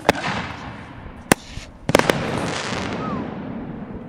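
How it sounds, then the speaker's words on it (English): Aerial firework shells from Dynamite Fireworks bursting outdoors: sharp loud bangs at the start, one mid-way and a tight cluster after, each trailing into dense sizzling crackle that fills the gaps, with a faint whistle late on. "very loud, very crackly, very good shells"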